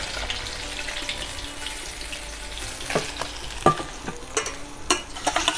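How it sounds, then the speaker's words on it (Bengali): Bele fish frying in hot oil in a pan, a steady close sizzle with scattered sharp clatters and scrapes from turning the pieces, no voices. "এরকম করে লাল লাল করে সব মাছ ভেজে নেব"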